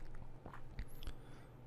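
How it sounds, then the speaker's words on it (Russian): In a kitten simulator video game, a mouse nibbles cheese: two quick, crunchy biting sounds close up over a soft background. "мышка опять откусила немножко сырок"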